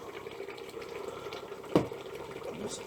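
Water poured from a tap or jug into a cooking pot of potatoes for lamb or mutton vindaloo, a soft steady splashing with one brief louder splash partway through, close and moderately quiet.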